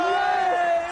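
A studio crowd roars at a televised GamesMaster video game contest, one brief, loud, sustained swell of voices.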